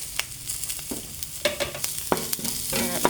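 Onions sizzle and fry in oil in a pan after garlic, with crackling and occasional stirring scrapes, close and moderately loud, no talking.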